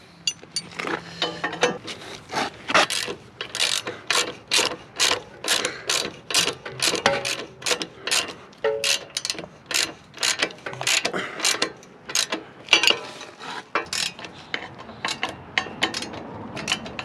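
A ratchet clicks in quick repeated bursts while tightening a rear shock bolt on a 2017 Sportster 1200 stunt bike, with steady rhythmic strokes of close metallic ratcheting and no speech.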